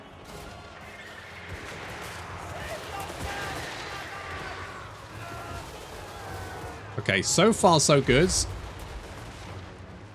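Gunfire and cannon shots in Total War: Warhammer 3 Immortal Empires, a rumbling battle din capped by a loud burst of rapid blasts near the end, with someone talking over it.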